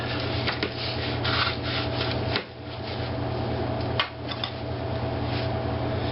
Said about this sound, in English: I can start cutting some good steaks out of it